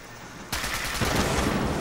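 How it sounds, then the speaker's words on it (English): Automatic gamma gun from Fallout 4 fires a sustained burst of rapid, crackling shots after a short quiet moment, loud and continuous, with no voices. "This is the improved focus overcharge laser, sharpshooter's automatic gamma gun."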